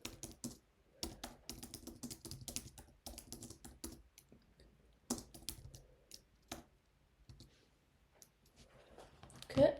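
Computer keyboard typing in quick, uneven bursts of close clicks separated by short pauses, fairly quiet, ending with a louder knock.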